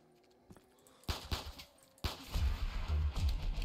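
Gunfire in Black Ops 3 Zombies: a few sharp separate shots ring out, then a denser, louder run of overlapping blasts with heavy low thuds fills the rest of the stretch.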